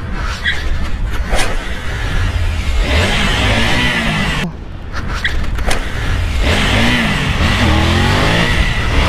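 A Triumph Tiger 900 motorcycle engine revs and accelerates through a wheelie on a rippled street, loud and close, with rising and falling throttle surges and a short dip midway.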